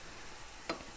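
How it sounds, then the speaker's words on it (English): Ground pork for a taco salad sizzles softly in a frying pan, a faint, steady hiss with one brief scrape or click near the end. "Our pork has been cooking in our frying pan,"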